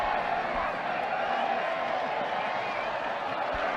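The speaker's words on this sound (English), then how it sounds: "So yeah, really good crowd out here." Spectators at a school rugby match between Hilton and Michaelhouse make a constant, distant crowd murmur with scattered cheers and occasional claps, an open-air hubbub filling the background throughout.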